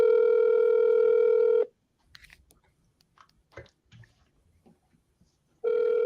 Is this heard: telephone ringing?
yes